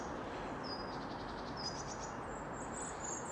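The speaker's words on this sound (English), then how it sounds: "You wake up to the sound of birdsong." Birds chirp faintly in woodland at dawn, with several short high calls scattered over a steady quiet background hiss.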